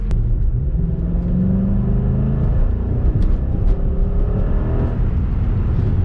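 A Dodge SRT engine accelerating on the road as a continuous loud, close rumble and rising whir, heard from inside the car with no talk.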